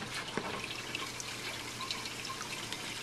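Homemade 20-gallon aeroponic cloner with PVC and styrofoam caps misting water continuously, a steady faint hiss with light dripping and trickling close by, no talk.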